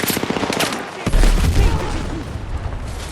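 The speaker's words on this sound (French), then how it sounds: "Je lance une grenade." A grenade exploding in the video game Battlefield 6 amid rapid gunfire, first a stuttering burst of shots, then a loud deep boom that rumbles and fades out, close and heavy, with no talk.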